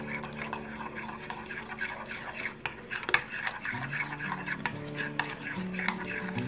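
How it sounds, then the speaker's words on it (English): A spoon stirs macaroni salad dressing seasoned with salt and pepper in a bowl, giving steady scraping and light clinks against the bowl with tonal music in the background. "And then we stir all this together."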